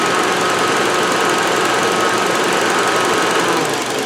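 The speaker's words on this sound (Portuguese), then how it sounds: "se você puxar aqui o acelerador aqui de uma vez, ele não acelera liso" Toyota Corolla engine running rough and hesitating as the throttle is snapped open: a loud, steady mechanical roar with uneven knocking texture, close and unbroken, no voices.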